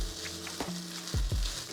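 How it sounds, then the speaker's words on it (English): Pad See Ew noodles are stir-fried in a pan with two spatulas, a soft steady sizzle broken by a few quick scraping strokes near the end. "I use 2 spatulas so it's easier to mix it"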